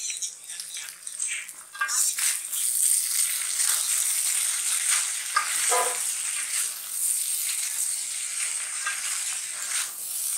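Cooked rice tumbling into a hot pan and frying, a steady loud sizzle that builds after a couple of seconds and holds, with occasional soft scrapes and stirring clicks close by.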